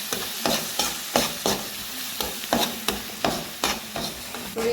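Garlic sizzles in a pan with curry leaves, chilli and a little turmeric for a mango pickle, with steady frying hiss and about a dozen regular scraping stirs.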